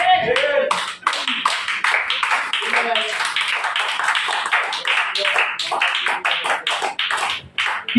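A church congregation at a Sunday worship and praise service claps loudly and steadily, a dense, continuous patter of many hands that carries through most of the moment with a few shouted voices mixed in.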